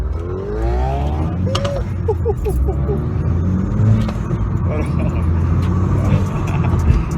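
A Vauxhall VXR car fitted with a stage 1 induction kit runs with a low engine rumble close by, while a person talks over it for most of the time.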